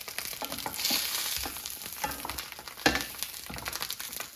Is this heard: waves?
no